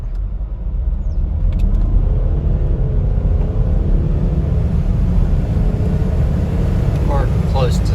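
A modern diesel car accelerates hard from a standstill toward 60 mph on a slight downhill, its steady, loud engine drone and road noise filling the interior throughout.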